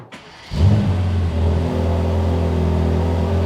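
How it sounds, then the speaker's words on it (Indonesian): A Mercedes-AMG GT Black Series sports car engine fires up after a brief crank, settling into a loud, deep, steady idle rumble close by. "Mau dengar suaranya nggak? Kita nyalain yuk."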